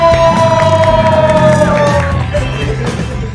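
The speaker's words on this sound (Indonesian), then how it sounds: "Beri tepuk tangan yang paling meriah untuk Lord Ananta Rispo." A loud stand-up comedy crowd cheers and whoops, with shouts rising over a steady roar of noise that tapers slightly toward the end.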